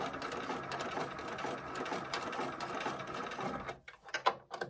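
A domestic sewing machine stitches slowly around a curve on a small fabric bunny bag, a continuous close mechanical whir that stops near the end, followed by a few soft handling clicks.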